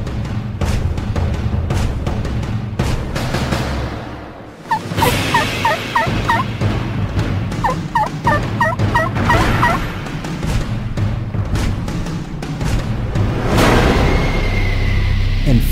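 A wild turkey gobbles loudly during a spring bow hunt, several rattling gobble bursts repeated a few seconds apart over steady outdoor background noise, close and clear.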